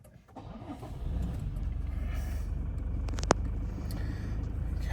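A 2023 Toyota Hilux 2.8 D4-D diesel pickup engine cranks and catches, settling into a steady low rumbling idle with a brief sharp click partway through.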